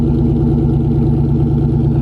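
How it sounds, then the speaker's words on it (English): A Dodge Charger R/T with a CORSA Xtreme exhaust idles after a warm start, a steady, deep, close burble with even low pulses throughout and no talk. "this is the way the exhaust sounds now"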